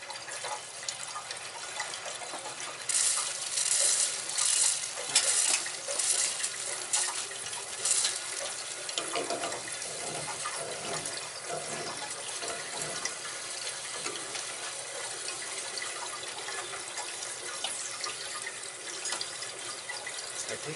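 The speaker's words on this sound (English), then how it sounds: "we got a leak coming out of the fucking high vent there." Water leaking from the high vent on a gas boiler, a steady broadband hiss and trickle running continuously, louder in the first several seconds and then settling to an even flow.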